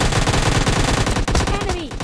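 Gunfire in the mobile battle royale game PUBG Mobile Lite: loud, rapid automatic bursts fill the whole stretch, with a brief dip and a falling whistle-like tone near the end.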